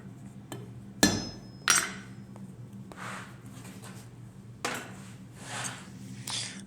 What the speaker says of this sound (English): So therefore I'm cutting it off to the right length